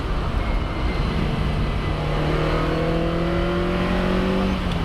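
A Ferrari 308 with a sports exhaust revs up with a rising, steady exhaust drone, rolling and continuous with no voices.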